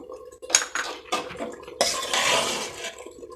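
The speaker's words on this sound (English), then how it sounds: "stir it nicely and our erishery is ready" Kerala-style erissery curry is stirred in a pot, with close scraping and clinking of a metal spoon against the pot in a few irregular bursts and a longer steady stroke, no voices.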